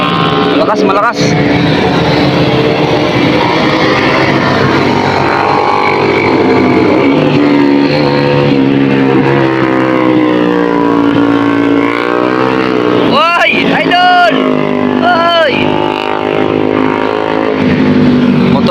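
Motorcycles race hard past on a mountain road during a Sunday ride at Marilaque, engines roaring loud and close throughout with sharp revving bursts near the end, while excited voices shout over the noise.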